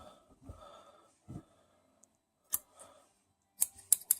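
Scissors snip at the base of a plant stem: a few crisp, close clicks and cuts with soft breathing between them, ending in a quicker cluster of sharp snips.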